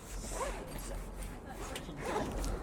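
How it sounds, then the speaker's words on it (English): A zipper on a boat cover being pulled open along a rope pass-through, a couple of soft rasping runs over steady outdoor background noise, with some faint talk nearby. "This zipper here is so you can hand a rope to yourself."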